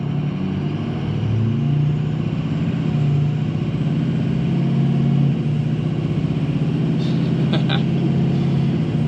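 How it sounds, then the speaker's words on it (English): Ford 6.0 diesel pickup truck running on a performance tune, its engine rumbling loudly and steadily up close, with a brief faint whistling flutter near the end. "The turbo flutter is ridiculous on this thing when you just let off the throttle completely"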